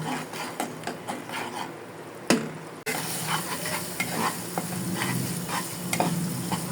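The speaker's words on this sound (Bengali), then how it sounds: "পরিমাণ মতো হলুদের গুঁড়া দিয়ে এখন মশলাগুলোকে একটু কষিয়ে নিব।" Spices fry with turmeric powder in a hot pan, a continuous dense sizzle under repeated stirring scrapes, with one sharp clack just before the frying grows louder and fuller for the rest.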